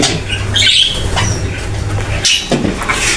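Snow white Java sparrows in an aviary give a few short, sharp chirps and squawks over a busy background of rustling and cage noise.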